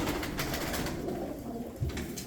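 Low, soft cooing of pigeons close by over a steady background hiss, with no talking.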